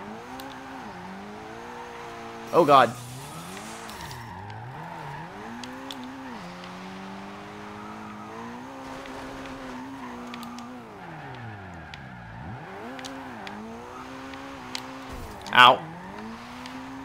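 A Toyota MR-2 SW20 turbo in Forza Horizon 2 revs up and down through repeated gear changes, the engine note climbing and falling over the run while a man briefly exclaims twice.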